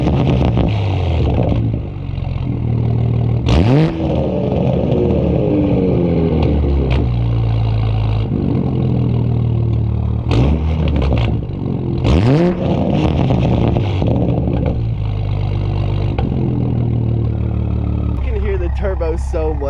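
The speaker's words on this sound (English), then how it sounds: "let's go ahead and take a listen to some revs in sport mode." A Toyota MK5 Supra with a Tomei Type-R single exit titanium exhaust revs repeatedly in sport mode, the engine pitch sweeping up and falling back several times, with someone talking over the deep rumble.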